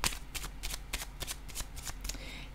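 Tarot cards being shuffled by hand in quick repeated riffling bursts, about nine crisp flutters in a steady rhythm, close and clear with no talking.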